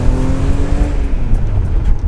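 An old car with seized tie rods and bad alignment drives along the road, its engine droning loud and close from inside the cabin, with a rising whine early and road rumble throughout.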